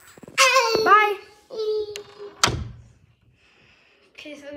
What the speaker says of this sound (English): I'm trying to open the door